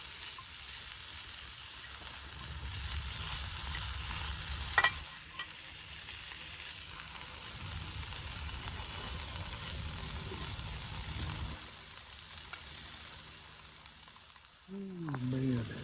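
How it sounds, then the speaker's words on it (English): Smoked ham sizzles in a pan over a fire in the woods, a faint, steady crackling hiss with a few sharp clicks, a brief louder knock and some soft handling noise near the end. "I just like hearing it sizzle, honestly."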